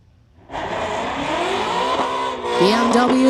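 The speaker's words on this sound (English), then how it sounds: "BMW is off and the Mustang is busy smoking his tires" BMW and Mustang launching down a drag strip as the Mustang spins its tires, with a loud engine roar rising in pitch and a high tire squeal joining near the end, close by.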